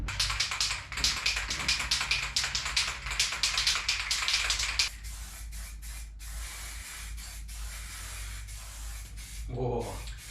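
Rattle of the mixing ball in a shaken spray paint can, fast and rhythmic for about five seconds, then quieter bursts of hissing spray while detailing a 1977 Dodge Lancer engine bay, with a brief squeak near the end.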